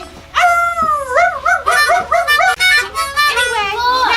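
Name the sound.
person imitating a wolf howling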